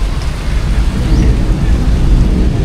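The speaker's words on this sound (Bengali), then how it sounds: "মেঘ ডাকতেছে, বৃষ্টি পড়ে" Rain falls steadily in a dense, even hiss while low, rumbling thunder rolls continuously underneath, loud and close throughout.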